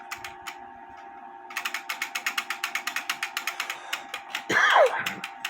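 Replica Anno 1640 weight-driven wooden foliot clock movement ticking in a steady rhythm of sharp ratchet-like clicks, close and clear, ending with a louder creaking scrape as it stops.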